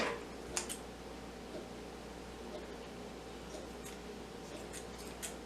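Small scissors snip the frayed ends of a handmade earring made from bangles, giving a few faint, brief clicks over a steady low room hiss.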